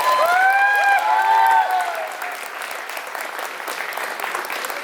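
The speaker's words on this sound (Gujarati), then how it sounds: "તો એવા એન્કર્સ માટે ઉજ્જવલ મોદી અને અપેક્ષાબેન માટે ખૂબ ખૂબ તાળીઓ થઈ જાય" An audience at a Munich Gujarati Samaj Diwali cultural evening in a Garching hall claps for the hosts. After a short musical tone at the start, the applause runs dense and steady, easing slightly toward the end.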